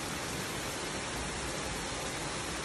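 Heavy rain falling steadily, heard from a porch in a residential neighborhood, a dense, even hiss that stays loud and constant with no voices.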